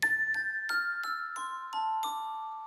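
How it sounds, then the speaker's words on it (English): Glockenspiel layer of a synth bell patch from a song recreation: about seven bright struck notes in a slow descending run, each ringing on, clear and alone. "The bell sound is made up of two layers. The first layer is a glockenspiel"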